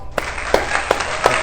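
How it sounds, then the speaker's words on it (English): Scattered audience applause greets a guest on an informal talk show, with a few sharp claps rising above a steady wash of broadband clapping noise. No one speaks. "let's give a huge round of applause for my guy, my brother, Mr. Darius Johnson."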